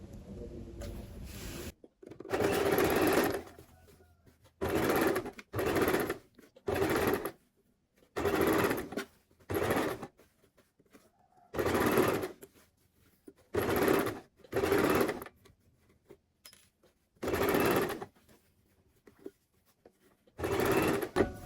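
Sewing machine stitching along an overlocked seam of a man's trouser pocket lining, in repeated bursts of rapid whirring a second or two long, separated by short pauses, close and clear with no talking.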